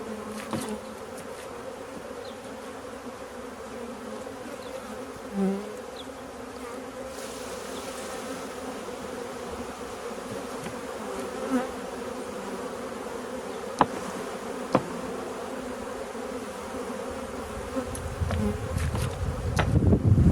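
Healthy honeybees buzz in a steady, continuous drone close by, with a few brief knocks and rustles and a rising rumble of handling noise toward the end; nobody speaks.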